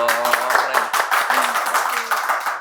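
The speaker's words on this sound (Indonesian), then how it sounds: "Wow, tepuk tangan dong." A small group claps their hands in quick, scattered rhythm, close and fairly loud, mixed with people talking and cheering at the same time.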